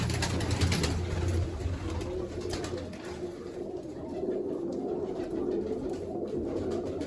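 Pigeons at a rooftop loft give a low, soft cooing that runs under a steady background hiss. The calls are fairly quiet and carry on through the stretch, with no talking.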